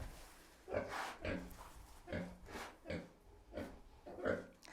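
A pregnant sow lying down close to farrowing grunts repeatedly at a steady pace, soft low snorts close by with quiet background between them.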